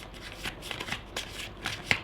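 Tarot cards shuffled by hand, a soft papery riffling with several brief flicks and one sharper snap near the end, close and quiet with no talking.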